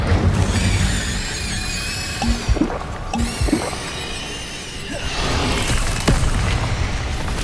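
Incendio fire spells are cast in the Hogwarts video game as a series of booming, whooshing bursts over a continuous rumbling background, with flares recurring every second or so.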